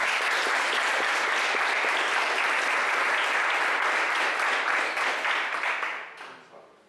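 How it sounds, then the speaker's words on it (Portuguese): A church congregation at a Portuguese-language service applauds loudly and steadily for several seconds before the clapping fades out at the end. "Vamos aplaudir o Senhor?"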